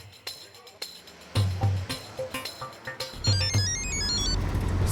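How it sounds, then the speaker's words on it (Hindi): A mobile phone ringtone chirps in short repeated bursts in an indoor scene, with a melodic electronic pattern near the end, mixed with voices and background music. "सुंदर का फोन"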